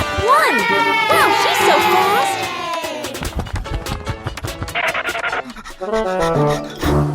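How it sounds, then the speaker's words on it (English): A cartoon crowd cheers at a race, excited children shouting and whooping in a bright, busy burst amid scampering effects and music, loud and close. "The cheers from the crowd get louder"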